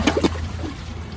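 A Glacier Bay dual flush toilet flushes in a short burst of rushing, gurgling water, with a few sloshing pulses at the start that settle into a steady trickle.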